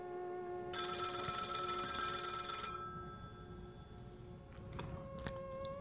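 Telephone ringing at midnight in a horror audio drama, a clear electronic ring burst lasting about two seconds over a quiet room, followed by faint low rustling.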